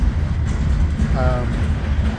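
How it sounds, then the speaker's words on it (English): Eastbound CSX mixed freight train with a DPU rolls slowly past, a steady loud rumble of rail cars with a brief squeal mid-way. "this is going to be a really long train"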